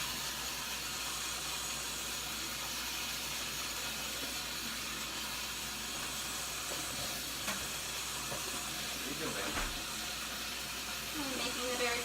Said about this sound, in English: finish rinsing off the boysenberries